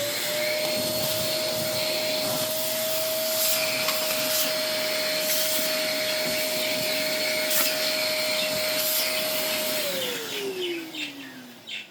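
An Eleckeys K30 cordless vacuum cleaner runs with a loud, steady whine close by, then switches off and spins down as the motor winds to a stop.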